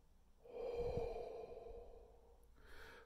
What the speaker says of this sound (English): we're just going to take a nice deep breath in and just blow it out like that